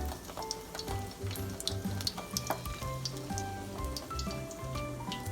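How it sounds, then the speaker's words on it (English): Chicken cutlets for chicken francese fry in a hot pan with a steady close sizzle and scattered crackling pops, with no talking. "So take your chicken, put it in the pan like this."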